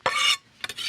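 A spoon stirs clam stuffing mixture for baked clams oreganata in a bowl. One long scraping stroke is followed by a short pause, a couple of light knocks, then another scraping stroke, all close and clear.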